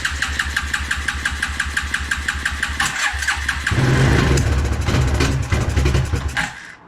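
A 1993 Suzuki King Quad 300 ATV engine runs roughly on choke, its regular low chugging firing pulses growing louder and busier as the throttle opens partway through, then cutting off abruptly near the end.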